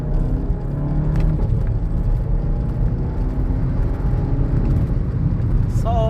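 A manual VW Golf 7.5 GTI pulls hard in second gear, its engine a steady, loud drone that holds throughout with rising harmonic tones, heard close from inside the car.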